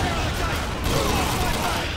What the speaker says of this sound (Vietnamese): Bắn từ hai bên bắn qua, nó bắn cao xuống.